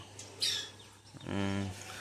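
Young pet lovebirds kept loose together in a flock, giving a few quiet chirps and a short harmonic call, close by and faint, with no talking.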